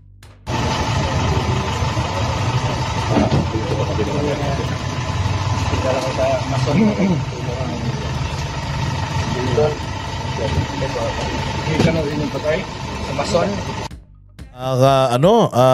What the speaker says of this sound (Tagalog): Ang lakas nung tunog ng makina, parang truck